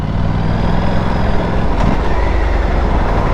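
An Aprilia RS457 motorcycle engine pulls steadily in second gear while riding, a loud continuous drone mixed with heavy wind rush and road noise and no clear changes in pitch.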